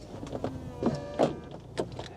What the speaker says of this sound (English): The roof's coming back up.